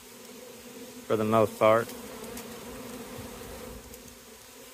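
A swarm of honeybees from a hive drones in a constant, fairly faint buzz on a windy morning, while someone talks briefly in two short bursts near the start.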